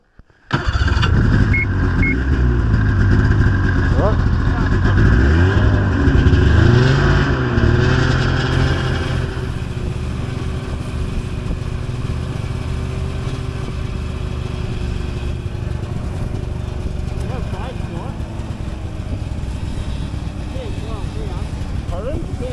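A snowmobile on the frozen, slushy ice of Georgian Bay revs loudly with a rising, wavering engine roar for several seconds, then settles into a steady rumbling idle that runs on close by.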